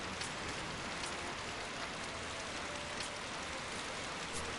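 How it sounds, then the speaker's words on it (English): Steady rain in Final Fantasy XII falls as an even, dense hiss with faint scattered droplet ticks. It stays constant and fairly soft throughout, with no voices. "Now this is rainy weather"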